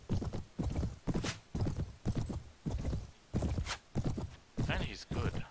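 In the Mount & Blade video game, horse hooves clip-clop in a steady galloping rhythm, with a few neighs and people talking over the top.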